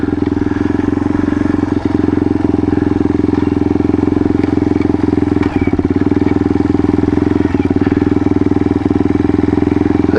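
Steady, loud idle of a Yamaha XT225 motorcycle fitted with a DG exhaust pipe, a deep, even thumping with slight crackle that runs close and unbroken the whole time.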